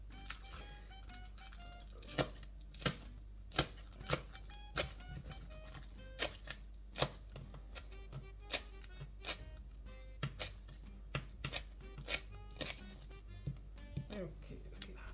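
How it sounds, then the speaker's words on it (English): Green onions being chopped with a knife on a cutting board for an omelette, a run of sharp, uneven taps over a low steady hum, close and fairly quiet. "we're gonna chop some green onions"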